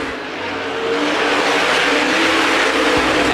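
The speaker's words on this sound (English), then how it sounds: "Bud Perry in that 10 car, a little loose going around turn 2, able to gather it back up." Modified race cars roaring around Winchester Speedway during a USA Modifieds 50-lap feature, a loud, dense, continuous engine drone that swells slightly with tire noise, with no voices over it.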